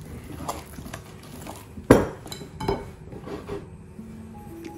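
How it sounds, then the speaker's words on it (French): Coconut cake batter with poppy seeds is stirred in a bowl, giving scattered soft scrapes and clinks of a utensil against the dish, with one sharper knock near the middle. "Je mélange à nouveau."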